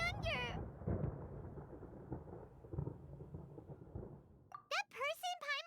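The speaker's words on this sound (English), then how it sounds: "Paimon hears thunder!" Deep rolling thunder rumbles through a Genshin Impact game scene, a long low roar that swells and fades, followed by a short bright chiming effect at the end.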